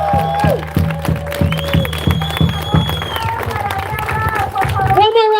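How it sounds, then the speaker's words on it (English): A crowd at a protest rally outside the GEO ICE detention center in Aurora, Colorado, claps in a steady rhythm while voices chant and shout. It is loud and close, with the chanting carrying over the clapping. "One more round of applause, everybody."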